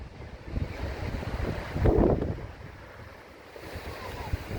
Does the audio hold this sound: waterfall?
yes